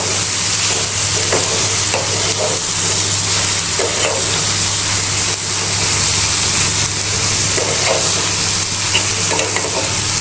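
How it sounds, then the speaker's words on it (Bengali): Onion, garlic and dried chillies fry in a pan while being stirred, giving a loud continuous sizzle with scraping strokes and a steady low hum beneath, no talk. "এখানে আমি পেঁয়াজ, রসুন আর শুকনো মরিচ কিছুক্ষণ ভালোভাবে ভেজে নিচ্ছি"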